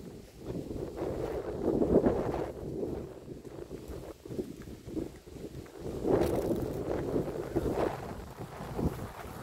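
Wind gusts buffet a microphone outdoors, producing a continuous low rumble that swells and fades in waves, loudest around the second and sixth seconds, with no voices.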